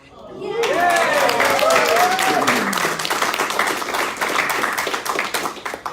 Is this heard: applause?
yes